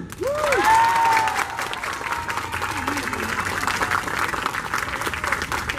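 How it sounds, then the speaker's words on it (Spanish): Crowd at a cosplay contest during a comic festival applauding an entrant dressed as Shazam, sustained clapping with scattered cheers and a whistle, loud at first then steady, with voices mixed underneath. "Aplausos por Shazam."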